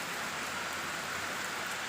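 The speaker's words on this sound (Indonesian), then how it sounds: "Ini aduh kepegat hujan saya teh" Steady rain falls near a tea plantation, a soft, even hiss of drops on surfaces with no other sounds standing out.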